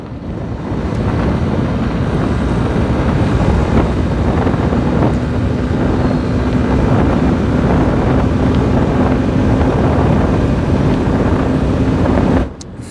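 A Honda SP 125 motorcycle carries a pillion rider and accelerates along a road after a fresh service. Its steady engine drone is buried in loud, continuous wind roar that lasts about twelve seconds and then cuts off abruptly.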